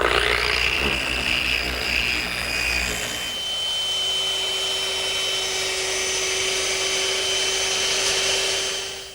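A power sander works the joints of a wooden mirror frame, a steady whining drone that runs close and loud throughout, with a brief rougher patch at the start before it evens out.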